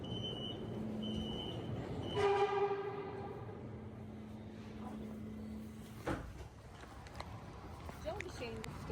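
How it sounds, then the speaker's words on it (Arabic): Metro train pulling into a station, with a low rumble, a rising electronic tone and a long sustained hum as it slows, followed by a sharp clunk, with people talking throughout. "والحمد لله بسرعة وصل المترو وصعدنا"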